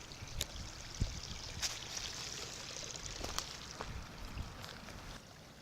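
Water from an old spring amid stonework along the C&O Canal, a steady gentle trickle and splash with occasional sharper drips, close by and alone.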